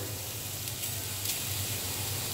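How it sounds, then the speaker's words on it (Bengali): Grated ash gourd dropped into a hot, dry wok with no oil sets off a steady, close sizzle and hiss that holds evenly for a couple of seconds, with no voices. "তো কড়াতে আমি দিয়ে দিলাম গ্রেট করে রাখা চাল কুমড়ো।"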